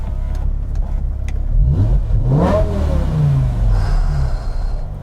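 A BMW M6 V10 engine revs up loudly and close, its pitch sweeping sharply upward to a peak and then falling back as the revs drop and settle into a steady, throaty idle.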